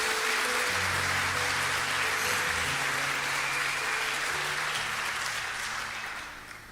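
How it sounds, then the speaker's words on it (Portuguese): A church congregation gives sustained, dense applause for Jesus during a Portuguese-language service, steady and full for several seconds before tapering off at the end. "Uma salva de palmas a Jesus."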